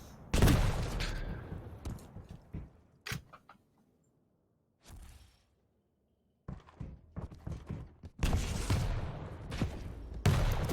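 Railgun and rocket fire in a Quake Pro League match crack out as sharp, loud bursts, some in quick clusters and others spaced apart, with a near-silent lull in the middle before dense volleys resume.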